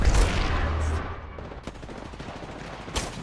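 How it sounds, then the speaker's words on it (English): Enemy gunfire in the video game Apex Legends: a dense burst of shots opens loudly, then fades into a few sharper isolated cracks, with no talking. "Whoa, they're shooting at me."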